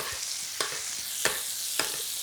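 Steak frying in hot fat in a pan with herbs and garlic, a steady close sizzle with three sharp crackling spits spaced about two-thirds of a second apart.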